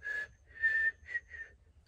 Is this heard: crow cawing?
no